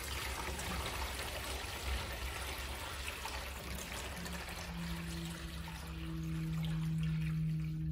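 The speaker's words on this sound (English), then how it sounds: "The first step before connecting power is adding water to the humidity tray." Water pours from a bucket into the humidity tray of a 1000-egg automatic incubator, a steady splashing trickle that fades toward the end, leaving a low electrical hum.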